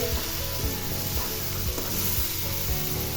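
Onions fry in oil, seasoned with turmeric, chili powder and salt, for a whole hilsa fish dopeyaja, giving a dense, steady sizzle with a few soft stirring scrapes, close and unbroken, without speech.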